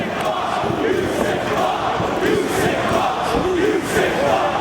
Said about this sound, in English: And the crowd agrees with that chant that I can't repeat.